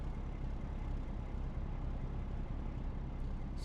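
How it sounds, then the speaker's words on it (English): Truck rumbling along a highway on Route 66, a steady low engine and road drone holding evenly throughout with no talk. "Pay no attention to the truck driving across that section."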